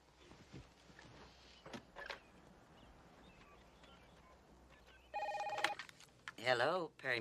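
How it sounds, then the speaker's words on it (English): A telephone rings in an office setting, a short electronic trill bursting in after a quiet stretch with faint movement and brief voices, followed by a second louder warbling ring near the end. "There's the phone."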